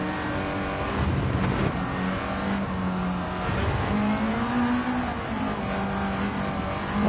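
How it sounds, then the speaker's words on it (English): Race cars in the video game Gran Turismo 7, including a Lamborghini, an Aston Martin and a Citroen DS, roar continuously as they pass, with engine pitch rising and falling throughout. "passing a Lamborghini and an Aston Martin and Citroen DS."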